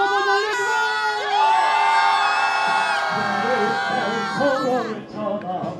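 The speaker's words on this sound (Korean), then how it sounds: "함성 한번 날려주세요" A protest rally crowd in Korea raises a loud, sustained shout and cheer that swells and holds for several seconds, with whoops and yells rising above the mass of voices before it breaks up into scattered calls.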